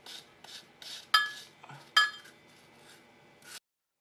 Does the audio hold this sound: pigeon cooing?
no